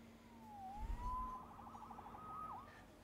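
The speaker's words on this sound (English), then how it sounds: "Saved by the siren." A police siren in a Spider-Man video game wails with rising and falling sweeps, then warbles rapidly, set against a steady electronic hum and a brief low rumble.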